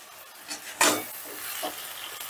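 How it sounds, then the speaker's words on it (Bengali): A spice paste of onion, ginger, garlic and green chilli frying in a pan over a gas flame. A soft sizzle runs under a few scraping stirs, with one sharper burst of hiss, close up and without speech. "এবারে গ্যাসের আঁচটা বাড়িয়ে দিয়ে আমি মশলাটা কষে নেব"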